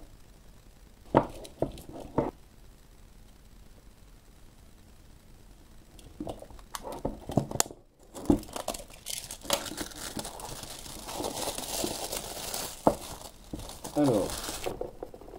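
Cardboard box and plastic packaging being unwrapped for a Beta 85X HD FPV drone, close crinkling and rustling in scattered bursts, then a longer stretch of continuous crackling, with someone speaking in French between handling sounds.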